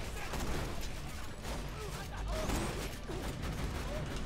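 Rapid shotgun blasts in Borderlands 2, a dense, noisy stretch of repeated gunfire and mechanical clatter that stays loud and steady throughout, mixed with game effects.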